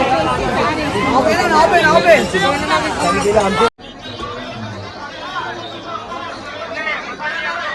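Dense crowd chatter at Dashashwamedh Ghat in Varanasi during the Ganga Aarti, a loud continuous babble of many voices close by, dropping abruptly to a quieter, more distant murmur partway through.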